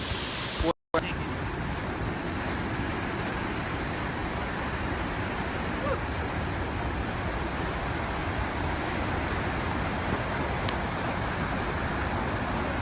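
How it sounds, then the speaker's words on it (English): An Alaskan wilderness waterfall in the rain gives a continuous, broad, steady roar of rushing water, loud and unbroken for the whole stretch apart from a brief dropout near the start. "That's the waterfall."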